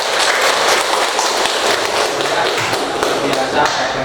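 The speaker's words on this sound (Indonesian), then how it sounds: "Tepuk tangan." A class of students applauds in a classroom, a dense, continuous rattle of close clapping that holds steady for several seconds.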